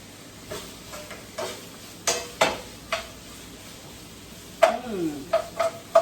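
Chicken fried rice stirred and turned in a pot, with soft sizzling underneath and scattered scraping clinks of a utensil against the metal coming in irregular bursts.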